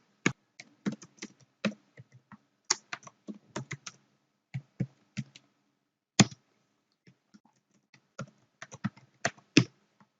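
Account details being typed on a computer keyboard while installing Oracle Database 11g on Windows, with clear, close keystrokes in quick irregular runs and short pauses, a few louder key taps standing out, no voices over them.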